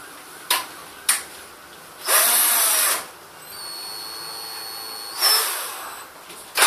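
A power drill fitted with brittle drill bits, whirring in three separate bursts, one of about a second and one longer, plus a couple of short taps, with a quiet hum in between.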